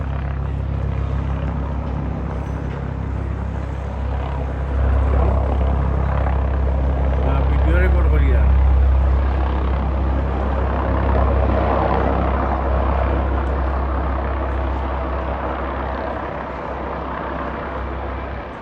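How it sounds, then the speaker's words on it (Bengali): A helicopter arrives at the London Hospital in Whitechapel with a deep, steady rotor drone that swells in the middle and eases off, while people talk faintly nearby. "হেলিকপ্টার আইছে"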